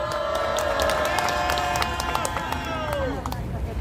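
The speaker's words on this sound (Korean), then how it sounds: "힘찬 박수로 맞아주십시오." A crowd at an outdoor candlelight rally in front of Seoul City Hall claps and cheers in a dense, steady wash, with voices and a sustained tonal sound riding over the applause.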